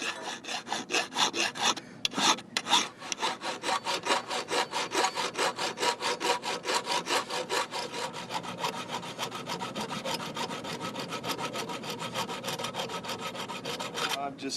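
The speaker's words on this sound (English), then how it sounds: "Filing off the outer lip that I've mushroomed over." A metal file rasps rhythmically across the mushroomed outer lip of a hammer head, dozens of even, close strokes in a steady back-and-forth rhythm with a short pause early on.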